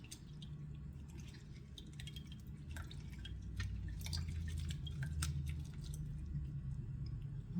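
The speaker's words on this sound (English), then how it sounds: "Take half a lemon and just squeeze in the juice into the water, the cold water" Half a lemon squeezed by hand over a bowl of cold water while preparing quinces, with soft wet squishing and scattered drips falling into the water, close and fairly quiet, with no talking.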